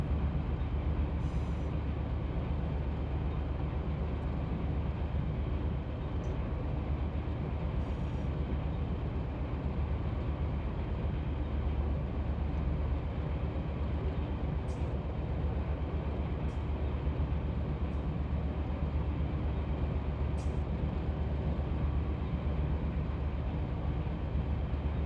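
A freight train rolls along in Run8 Train Simulator with a continuous low rumble and steady wheel-on-rail roar throughout, marked by a few brief high clicks and squeaks.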